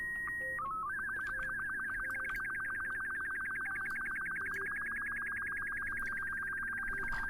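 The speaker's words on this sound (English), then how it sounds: "Hey, annoying beeping thing." A high electronic warning tone beeps in a rapid, steady pulsing pattern inside the Kerbal Space Program game, continuous and clear over low background noise, with no talking.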